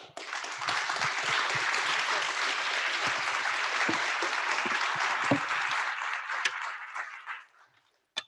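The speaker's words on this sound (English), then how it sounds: "So one more round of applause for our final panel." A symposium plenary audience applauds in a dense, steady wash of many hands clapping that holds for about seven seconds, then fades out quickly with a final isolated clap.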